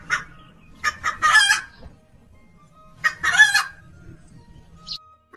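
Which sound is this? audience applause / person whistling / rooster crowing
rooster crowing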